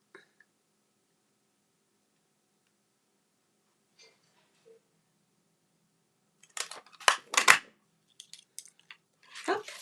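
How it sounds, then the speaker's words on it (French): Scissors snip through paper while a small paper cone is cut out, a cluster of sharp, close, crisp cuts arriving in quick bursts after a long quiet stretch, with a few faint ticks before them. "je vais venir découper mon petit cornet"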